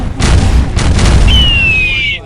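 A voice imitates a string of booming explosions as a sound effect, loud and continuous over about two seconds, followed by a thin whistling tone that sweeps slowly downward.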